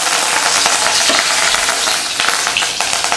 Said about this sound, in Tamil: கடாயில் எண்ணெய் ஊற்றி எண்ணெய் காஞ்சதுமே கொஞ்சம் வெந்தயம்